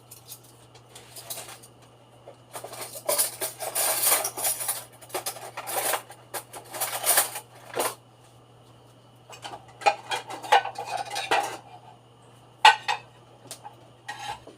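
Dishes, pots, pans and cutlery clatter and clink during washing in a home kitchen, in irregular bursts separated by quiet gaps, close by and with no talking.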